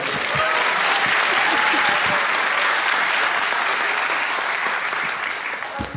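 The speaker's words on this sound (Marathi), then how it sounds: "एकदा टाळ्या वाजायच्या" An audience at a stand-up comedy show applauds, a loud, dense burst of clapping that holds steady for several seconds before starting to thin out.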